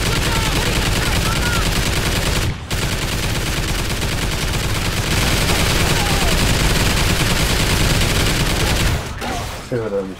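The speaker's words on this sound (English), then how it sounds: "Minigun turret online." A Call of Duty Ghosts Extinction mode minigun turret roars in a continuous, loud, dense stream of fire that breaks off briefly twice, with voices faintly under the barrage.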